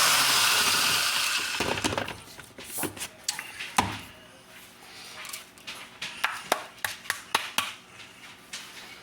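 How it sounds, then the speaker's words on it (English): Rapid knife strikes chopping pistachios on a cutting board, irregular sharp taps clustered in quick bursts, fairly close, with some clattery kitchen noise early on. "Now I'm just chopping up the pistachio."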